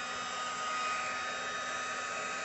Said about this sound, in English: this is a heat tool. It's just like a long hot air blower.